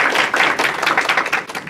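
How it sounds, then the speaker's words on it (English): Brief burst of audience applause at National Chengchi University welcoming a speaker, with close, uneven hand claps from a modest crowd, fairly loud and ragged, with no talking over it. "Let's give her a very warm applause from the National Chengchi University"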